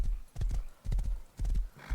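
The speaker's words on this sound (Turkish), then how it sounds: "Ondan sonra atımızı evimize götürüyoruz." A horse in the survival video game Rust gallops, its hooves sounding in three quick rhythmic bursts of clip-clop, close and fairly loud, with no talking.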